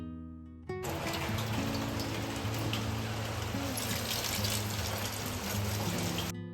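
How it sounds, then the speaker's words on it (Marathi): Dried shrimp (sukat) being rinsed in clean water, a continuous running, splashing water sound close by over a faint tonal background. "आणि मग ती सुकट स्वच्छ पाण्याने धुवून घ्यायची।"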